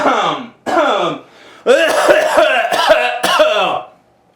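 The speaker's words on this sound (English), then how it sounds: "Sorry, I had to cough." A person coughs and clears their throat several times in a row, close and loud, the bursts coming in quick succession.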